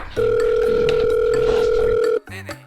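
Steady electronic ringback tone on a phone call to a car dealer, one long continuous tone held for about two seconds, loud and close, then a brief pause before it starts again.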